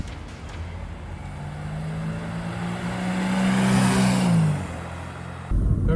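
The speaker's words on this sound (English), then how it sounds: "Very smooth changes on the gearbox" A 1988 Mercedes 200T seven-seater estate driving along, its engine note rising under acceleration, then dropping away as the gearbox shifts smoothly into the next gear, with steady road noise throughout.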